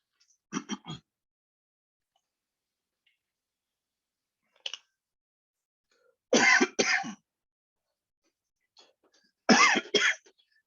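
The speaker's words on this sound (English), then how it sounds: "Let me just clear my throat for a second here." A few short bursts of throat clearing and coughing, spaced apart by silence, close and fairly loud.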